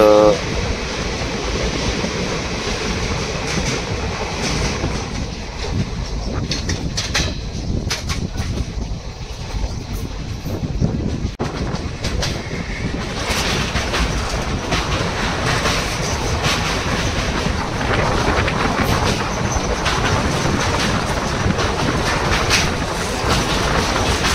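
The Amravati–Pune Express rolls along the tracks in a loud continuous rumble with rattling carriages and rhythmic wheel clatter, heard from inside the coach, with faint voices in the mix.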